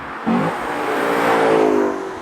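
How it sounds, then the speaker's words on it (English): A 2020 Lexus LC 500's naturally aspirated 5-liter V8 petrol engine revs up sharply, its pitch climbing and holding in a brief, loud surge before easing off. "a 480 horsepower, naturally aspirated 5-liter V8 petrol engine"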